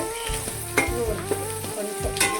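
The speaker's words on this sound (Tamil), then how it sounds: "இப்போ பாருங்கள் வெங்காயம் நல்லா வதங்கிடுச்சு" Onions sautéing in a pan for chicken biryani give a close, steady sizzle with a few sharp stirring knocks, heard over a tonal melodic backing.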